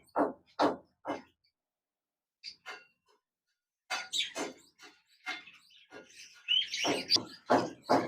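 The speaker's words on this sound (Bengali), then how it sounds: "এক জোড়া ইংলিশ বাজরিকার রয়েছে চমৎকার বিগ সাইজের এই পাখি জোড়া" A pair of large English budgerigars chirp close by in quick scattered bursts, a short silence, then a busier run of tweets and chatter.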